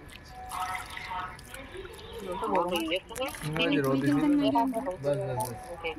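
Water is poured over a bride's hands during a Bengali wedding ritual, a faint trickling and dripping beneath close, animated talk from several people.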